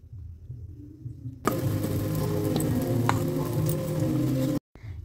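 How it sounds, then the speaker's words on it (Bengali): Green pea paste hits hot oil in a pan with a sudden loud, steady sizzle that continues close and unbroken for about three seconds before cutting off. "এবার আমরা যে মটরশুঁটির পেস্টটা করে রেখেছিলাম সেই পেস্টটা তেলের মধ্যে দিয়ে দেবো।"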